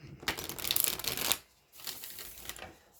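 Tarot cards being shuffled by hand in a few quick riffling bursts, a long papery rustle followed by two shorter, softer passes, close and fairly quiet.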